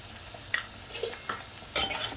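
Fried potatoes seasoned with black pepper and dry mango powder are stirred in a pan, giving a few scraping strokes and clinks, with a louder scrape near the end.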